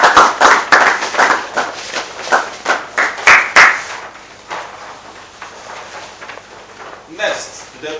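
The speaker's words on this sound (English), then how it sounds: "A round of applause for Waptv." An audience applauds at a school house event, bursts of loud hand clapping and cheering that fade into scattered claps, with voices talking over it.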